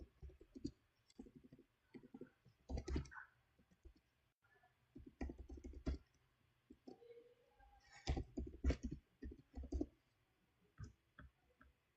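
Keys being typed on a computer keyboard while an email address is entered, heard as close, uneven bursts of clicking with short pauses between them.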